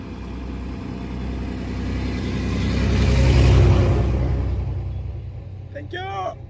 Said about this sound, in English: Oh man, there's a big truck coming.